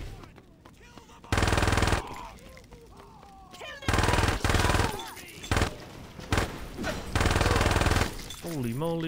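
Shotgun fire in the video game Saints Row 2 comes in loud, blaring bursts of a second or so, repeated several times, with quieter game effects and a player's voice in between.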